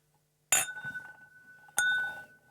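Two bright glass clinks ring out in a bourbon toast, close and crisp, the second following about a second after the first, each leaving a short ringing tail in an otherwise quiet room.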